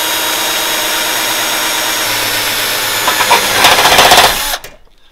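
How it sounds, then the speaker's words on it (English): A 90-degree angle drill bores into an aluminum aircraft wing part for a kit plane wing box, a loud steady whining motor that rises as the bit cuts through, then stops abruptly and falls silent. "So that's how the 90 degree drill works."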